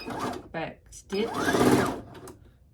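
A sewing machine runs in short bursts as it back stitches along pillow case fabric, stopping and starting with a quick reverse pass, loud and close, with a person talking briefly between runs.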